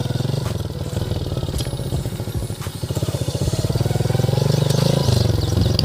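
A motorcycle engine revs repeatedly while a learner rider is being taught, its throbbing note swelling louder toward the end before dropping back, close and continuous.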